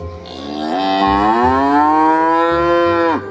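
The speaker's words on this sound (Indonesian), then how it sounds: "Wah ada juga satu ekor sapi loh teman-teman" A single long, loud cow moo in a video game, rising in pitch and holding before breaking off abruptly, close and clear with no talking.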